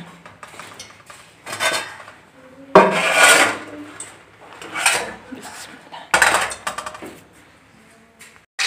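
Boiled rice tipped into hot ghee in a wok, heard as loud scraping and clattering of a utensil against the metal pan in uneven bursts, close up with no talking.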